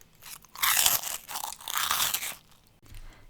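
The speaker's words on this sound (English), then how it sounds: "Okay, one final crunch." Seasoned chickpea puffs crunch loudly between the teeth, a few close crisp bites and chews in two bursts, then quiet.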